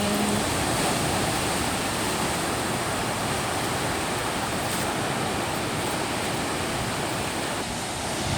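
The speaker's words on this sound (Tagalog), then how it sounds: "ang lakas ng alon, grabe." Loud, continuous roar of strong crashing ocean surf at Dinadyawan, Dipaculao, a dense steady wash of water noise with no voices.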